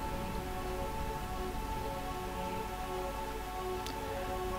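Steady, even rain falls in Final Fantasy 9 as a continuous hiss of drops on surfaces, moderately loud and unbroken, with no voices over it.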